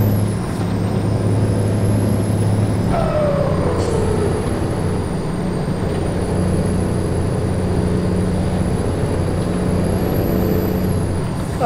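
A truck drives steadily in American Truck Simulator, its engine a constant loud drone with a brief air-brake hiss and pitch shift partway through, plus a wavering high tone running throughout.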